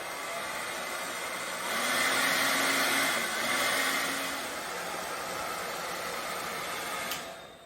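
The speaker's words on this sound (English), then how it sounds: "we're just going to start running the hairdryer until the heat wrap shrinks up" A hairdryer blows steadily on high heat at close range, shrinking heat-shrink tubing onto a hammer grip, a constant whooshing roar that swells slightly in the middle before cutting off near the end.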